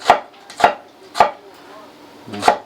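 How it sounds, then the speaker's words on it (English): Four sharp knife strokes cut through an onion onto a board, spaced about half a second apart with a short pause before the last one, loud and close. "So the onion's pretty easy. Cut this way."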